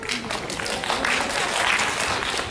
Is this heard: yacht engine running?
no